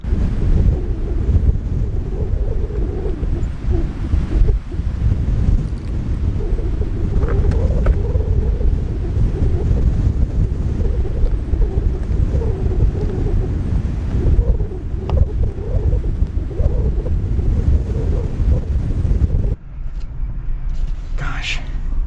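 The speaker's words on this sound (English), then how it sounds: "this is like the windstorm of the year" Strong windstorm buffeting a 2021 Jeep Wrangler Rubicon 4xe on an off-road trail: loud, constant roaring wind rumble and microphone buffeting that fills the clip and drops slightly near the end.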